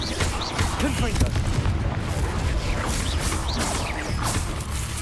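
Confringo explosive spells being cast in the video game Hogwarts Legacy, a dense run of booming blasts and crashes amid continuous loud combat noise.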